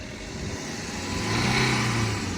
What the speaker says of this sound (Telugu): యాక్సిలేటర్ ఇవ్వండి, బాగా రైజ్ చేయండి